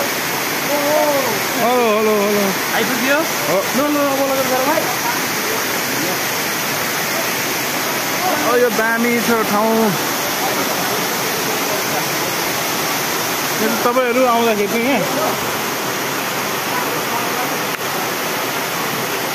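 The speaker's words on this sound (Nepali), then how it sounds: "यो पानी छोड्ने गेट हो" Water rushes steadily from the release gate of the Maya Khola hydro dam, a loud continuous roar that fills the whole clip while someone talks over it intermittently.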